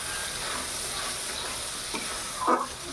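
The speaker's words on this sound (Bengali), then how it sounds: "এখন আমি মশলাটাকে ভালো করে পাকাবো।" Masala for a dhaba-style rohu fish curry, spiced with turmeric powder, frying in a pan, giving a steady close sizzle with a brief louder scrape or stir near the end.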